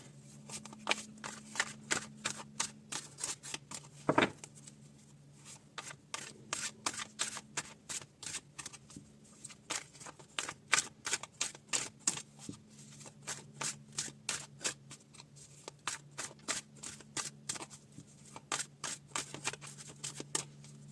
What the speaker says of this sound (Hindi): be positive while I'm doing your reading and shuffling your cards